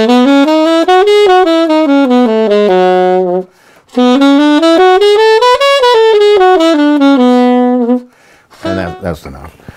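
Minor Dorian scale with flat third and flat seventh played as a clear melodic run on a single tone instrument, rising and falling in two long phrases, loud and close, then a few brief rough noises at the end.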